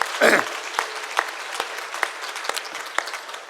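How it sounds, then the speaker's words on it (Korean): A Sunday church congregation applauds the children after their singing, with a loud burst at the start settling into scattered, uneven claps that thin out across the moment. "우리 어린이들한테 박수 한번 크게 합시다"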